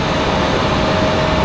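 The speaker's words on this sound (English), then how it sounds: "an arrival coming onto downwind. That is American 1904 coming in from Charlotte." An American airliner arriving at Raleigh-Durham airport from Charlotte roars as a loud, steady broadband engine rumble, continuous throughout with no voices.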